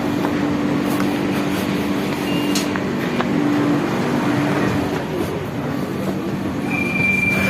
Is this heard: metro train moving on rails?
yes